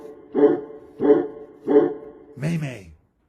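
A dog gives three evenly spaced barks, loud and close, then a higher yelp-like bark, the dog apparently one of several puppies.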